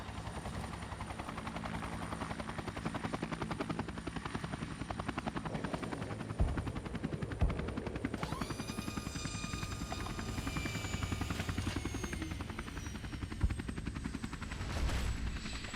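A helicopter in Fallout New Vegas with a continuous rapid rotor thump, loud and close, joined midway by a rising turbine whine and scattered sharp gunshot-like cracks, as it comes in to land.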